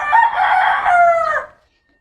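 A rooster crows once, close and loud, a single drawn-out call of about a second and a half that fades into quiet.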